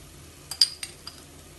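A few sharp metallic clinks of a spoon against a pan while biryani masala with ginger and garlic is stirred, four quick taps close up in a quiet kitchen.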